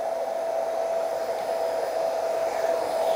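A steady, loud hair dryer fitted with a diffuser blowing continuously with an even whirring hum, close up, with no talking.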